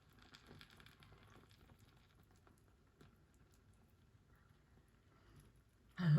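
Cold syrup poured over hot baked Azeri pakhlava sizzles with a faint, close, crackling hiss, steady and soft throughout before a sudden louder noise at the very end.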